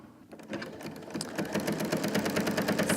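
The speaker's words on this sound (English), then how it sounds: "you get the idea that the stitches are close together and you're adding a lot of great texture, which is what quilting is all about." A sewing machine fitted with a walking foot stitches quilting in a fast, steady run of close mechanical clicks, loud and near with no voices.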